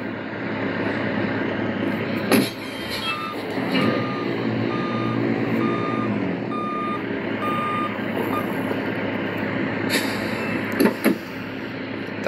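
Truck reversing alarm in Grand Truck Simulator 2, steady intermittent beeps repeating over a constant engine and road drone, with a couple of brief clunks.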